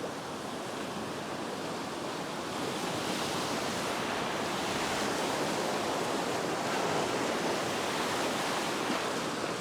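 Waves breaking on a fishing beach form a continuous, loud, nearby roar of surf, slowly building across the stretch, with light wind and no speech.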